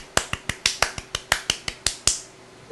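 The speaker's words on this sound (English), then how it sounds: "No, you get a golf clap." A dozen light, sharp claps in a steady, unhurried rhythm, close and alone, like a polite golf clap.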